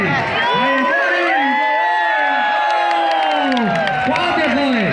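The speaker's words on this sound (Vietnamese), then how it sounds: "Vai đi, một tràng pháo tay các bạn ơi." A large crowd at a Hmong bullfighting event in Bảo Lâm, Cao Bằng cheers and whoops loudly and continuously, with shouting voices swelling over a dense, near roar of the stadium.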